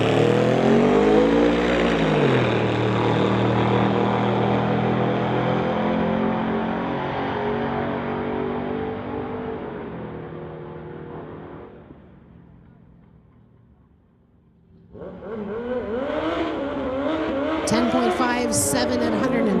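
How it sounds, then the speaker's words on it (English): A 2002 Ford Lightning races at a street legal drag event. The engine roars loudly and fades into the distance, and after a short lull an announcer talks over crowd and track noise. "(2002) Ford Lightning. Apparently it's a super rare model."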